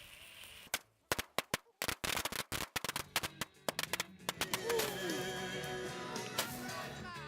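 Fireworks set off at night in Tecopa: a string of sharp, loud bangs at irregular intervals, then a denser rolling crackle of overlapping pops and fizzing bursts nearby.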